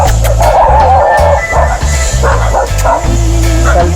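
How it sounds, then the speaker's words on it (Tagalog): Guard dogs at a riverside spot in Sorsogon bark loudly and repeatedly in close, rapid bursts that run almost without pause. "Kaya may mga bantay na aso sila dito."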